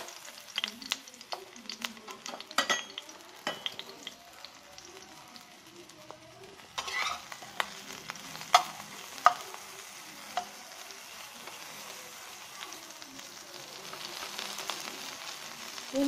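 Okra for bhindi masala fries in oil in a pan, a low continuous sizzle broken by scraping stirs and sharp clinks of a utensil against the pan, with the sizzle building slightly toward the end.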